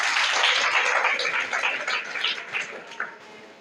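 Junior high school students in Varanasi clap together at a quiz round, a dense, steady patter of many hands that stays loud for most of the stretch and thins slightly toward the end.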